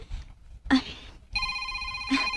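An incoming call sets a telephone ringing in short electronic bursts with a steady tone, one burst after a brief voice and another rising at the end, clear and close.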